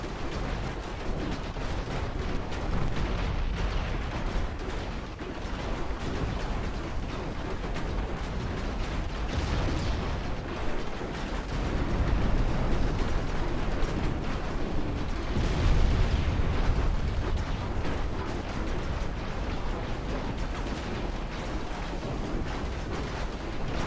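A torpedo hit explosion in the naval video game Ultimate Admiral Dreadnoughts: dense, continuous rumbling booms that swell in the middle and toward the end over a steady roar of battle noise.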